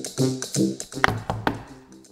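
A bathroom door is knocked on with a few sharp raps close by, mixed in with louder tonal, voice-like sounds.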